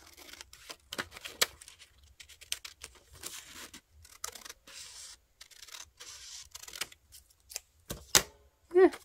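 Scissors cutting a small strip of paper while making a journal, a series of short crisp snips and paper rustles with gaps of near silence.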